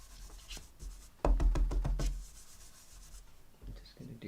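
Sanding a card label during a cardmaking demonstration: close, dry rubbing strokes in a quick run of short bursts, with fainter scraping before and after and no talking.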